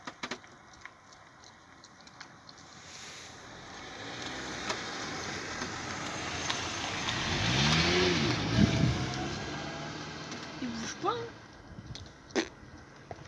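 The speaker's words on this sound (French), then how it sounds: "Dépêche-toi, il y a une voiture qui arrive." A car approaches along a road, its engine swelling from faint to moderately loud as it draws near and passes, then fading, with people talking quietly nearby.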